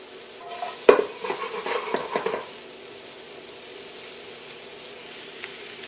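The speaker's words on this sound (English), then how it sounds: "Now we're getting a nice smokiness out of this wok, and that flavor is infusing these veggies." Vegetables hit a hot wok for vegan kimchi cauliflower fried rice: a sharp clatter and a burst of stirring and scraping, then a soft continuous sizzle that fades to a low hiss.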